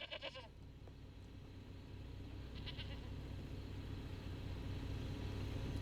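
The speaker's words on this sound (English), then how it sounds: "I think a goat might go by soon." A goat bleats in a quick wavering burst right at the start, then a second, fainter bleat follows a few seconds later, heard from a car over a steady engine and road rumble.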